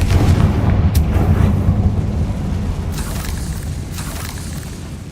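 Confringo blasting spell explosion in Hogwarts Legacy, a loud rumbling boom that rolls on and slowly decays, with a few crackling bursts along the way.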